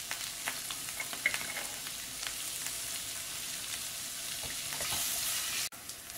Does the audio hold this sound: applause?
no